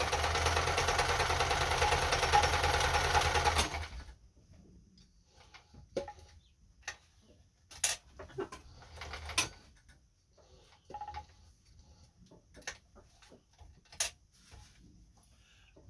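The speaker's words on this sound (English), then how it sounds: "Hold your threads for the first stitch or two." Kenmore 10 Stitch sewing machine running steadily and loudly for a few seconds, then stopping, followed by scattered soft clicks and taps of the mechanism.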